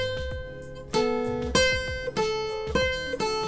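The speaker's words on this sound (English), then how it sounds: "noodling is just basically when you go all ADD on your guitar" An electric guitar is noodled with loose, improvised single notes and a few chords, plucked at an uneven, wandering rhythm, close and clear with no talking.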